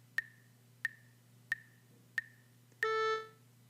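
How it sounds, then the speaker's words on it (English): Four short, evenly spaced metronome clicks with brief ringing tones lead into one sustained musical pitch held for an eighth-note duration, clean and fairly quiet before it fades out. "A pitch that has a duration of 1/8 note would sound like this"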